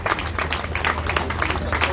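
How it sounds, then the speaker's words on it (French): Audience applause at the podium ceremony of the 2024 Tour de la Provence cycling race: dense, continuous clapping from a crowd, steady in loudness, over a low electrical hum. "Je crois que vous pouvez applaudir plus fort encore, mesdames et messieurs"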